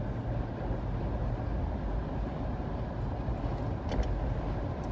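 Steady low road rumble inside a moving car, a continuous broadband drone with no speech over it and only slight swells in level.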